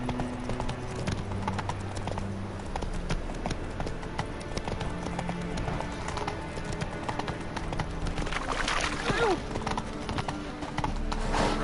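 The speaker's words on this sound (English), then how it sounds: "Run, Roach. Come on, Roach" Rapid hoofbeats of a horse galloping in The Witcher 3, a steady close clip-clop rhythm with an occasional whinny and a voice speaking over it.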